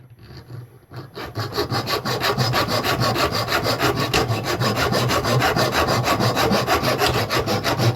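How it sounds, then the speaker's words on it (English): A metal rod is sawn into small heat sinks. Quick, even back-and-forth saw strokes rasp loudly and steadily for several seconds after a brief quieter start. "I'm going to cut up a whole rod of these."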